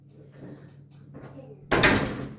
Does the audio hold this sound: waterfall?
no